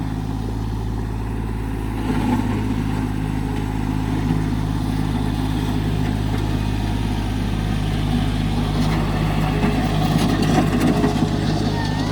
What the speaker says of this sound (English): the boys got a tractor ride